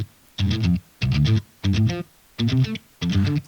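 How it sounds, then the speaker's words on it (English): Tight, heavily distorted 8-string guitar played through an amp with compression and no reverb or delay, sounding as five short, evenly spaced chugged bursts with dead silence cut between them. "compression, this amp again, no reverb or delay. So it's just a super tight 8-string sound."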